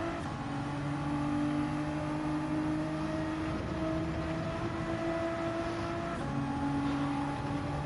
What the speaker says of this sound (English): That's me braking, handbraking, and turning at the same time